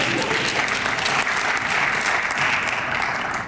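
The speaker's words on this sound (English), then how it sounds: "Give another round of applause." An audience at a Martin Luther King Day community celebration in Simsbury gives sustained applause, a dense, even wash of clapping that holds steady throughout without letting up.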